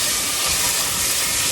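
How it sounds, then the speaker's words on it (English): Onions sautéing in oil with dried rosemary in a saucepan over medium heat, a dense, loud, continuous hiss of frying, close and steady throughout. "I'm just going to saute these"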